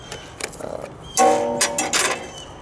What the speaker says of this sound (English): I'm using a special wrench designed to take off